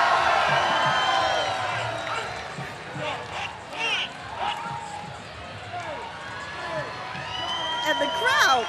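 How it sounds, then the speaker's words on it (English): A parade crowd cheers and whoops for a marching drill team at a St. Patrick's Day parade, with loud mixed voices and scattered shouts rising and falling throughout. "And the crowd is going wild."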